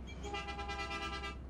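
The horn of a bus in the mobile driving game Bus Simulator Ultimate gives one steady honk of about a second over a low engine hum.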